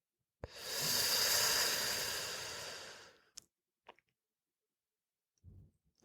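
A slow, deep breath drawn in and let out during a guided meditation, a single long, soft airy exhale close to the microphone, followed by quiet with a few small clicks and a faint later breath.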